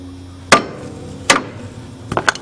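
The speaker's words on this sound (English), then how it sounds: "I've aimed the ball joint post to a handy spot so it's a good whack with a hammer." Two sharp metallic hammer whacks spaced apart, knocking a pressed-in ball joint out, followed by a quick cluster of lighter knocks at the end.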